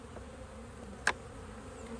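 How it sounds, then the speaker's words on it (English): Steady low buzzing of many honeybees in a hive, continuous and close, with a brief sharp click partway through. "We've got a whole bunch of bees."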